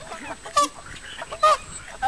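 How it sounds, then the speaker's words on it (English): Geese honk in three short, loud bursts spaced roughly a second apart, close by, with a faint voice briefly audible between calls. "Can I go chase the geese?"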